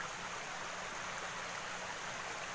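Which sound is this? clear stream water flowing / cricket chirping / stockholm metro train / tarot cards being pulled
clear stream water flowing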